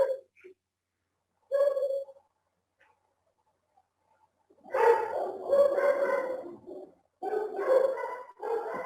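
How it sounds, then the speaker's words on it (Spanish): Dogs bark excitedly at arriving visitors, heard indoors from a short distance, with a few short yelps early on, then rapid clustered barking that comes in two longer bursts. "viene gente y mis perros se enloquecen"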